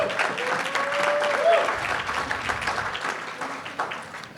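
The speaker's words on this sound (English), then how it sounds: "But let's give Steve a big round of applause here." An audience at a talk gives a round of applause, a sustained crowd clapping wash with some voices mixed in, fairly steady throughout.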